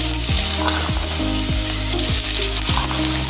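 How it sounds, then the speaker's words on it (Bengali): Round-sliced potatoes frying in hot oil, a loud, continuous sizzle close by, broken by repeated scraping clatters of a utensil stirring the pan. "আলু ভেজে নেব।"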